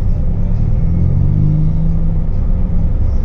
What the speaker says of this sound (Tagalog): Grabing traffic mga kabayan, oh.